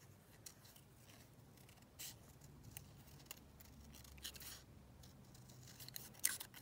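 Scissors snip around a paper label at a craft table, a faint series of soft irregular cuts over quiet room background, alone without talk.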